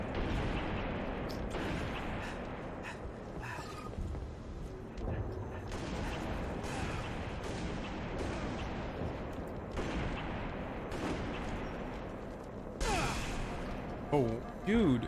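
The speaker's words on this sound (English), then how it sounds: "My team keeps shooting me, dude." Gunfire in a video game, repeated bursts of shots and booming blasts scattered irregularly through the stretch, moderately loud, with someone talking over them.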